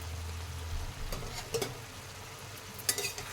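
Radish greens cooking down for a chorchori crackle with a soft, steady sizzle in the pan, broken by a few brief scrapes and clinks as they are stirred, fairly quiet and close with no voices.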